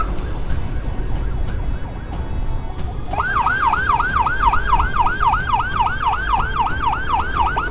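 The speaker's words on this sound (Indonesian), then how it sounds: "tapi ini ada ambulan di belakang. Kita bantu saja. Kalau dari sirenenya ini darurat ya guys." Ambulance siren wailing close behind a car on the road, starting abruptly after a few seconds of traffic rumble and then cycling rapidly and loudly over the engine noise.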